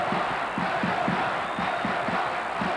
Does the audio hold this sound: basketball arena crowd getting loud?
yes